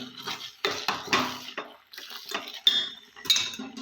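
A spoon scrapes and clinks in a pan as semolina cooked with sugar is mixed with saffron milk, irregular close metallic taps and wet stirring sounds with brief pauses.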